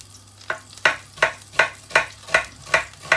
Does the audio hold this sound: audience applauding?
no